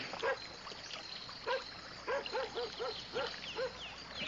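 A dog barks in a series of sharp, mid-pitched yaps, several quick barks in a row with short gaps, moderately close over a faint background hiss.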